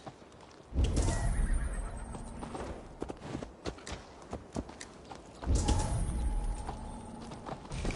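Horse neighing and hoof clip-clops in a Viking-era video game, with two loud whinnies separated by a stretch of scattered hoof steps and light ambient bird sounds in the background.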